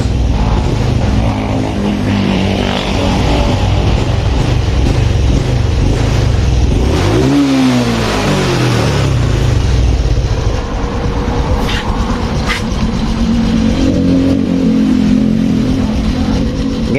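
A Honda Supra X 125 injection motorcycle engine runs close up, revving and rising in pitch and then settling back, loud and continuous with no talk over it.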